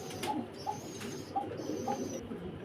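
Pigeons coo repeatedly nearby, short soft throaty notes at a steady pace, with a faint high whine in the background.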